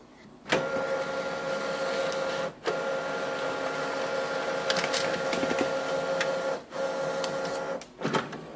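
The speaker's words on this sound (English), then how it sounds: "So our printer is connected and it is scanning." An Epson WorkForce WF-3823 printer scans a document fed face up through its feeder tray, producing a steady mechanical whir with a sustained tone, interrupted by brief clunks and pauses as the carriage stops and restarts, close and fairly quiet.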